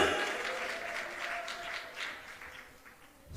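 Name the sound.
congregation clapping hands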